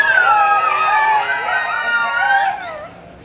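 Several children hollering their best pig-call imitations: overlapping, high, drawn-out wailing voices that rise and fall together for about three seconds and then trail off.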